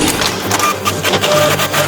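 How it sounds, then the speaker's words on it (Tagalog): A 3D printer builds a small toy Ferris wheel for a doll, its steady mechanical whirring and faint stepper-motor tones running continuously and fairly close. "Kumuha tayo ng 3D printer."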